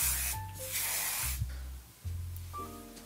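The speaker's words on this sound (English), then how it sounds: "I'm gonna use this Sebastian spray." Sebastian hairspray hisses from a can in a few short, close bursts of airy spray over steady background music, with a pause between the blasts.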